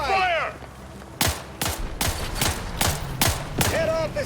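Gunfire in the video game The Outer Worlds 2, about eight sharp loud shots in an irregular burst, close and punchy, with a brief synthetic tonal game sound at the start and again at the end.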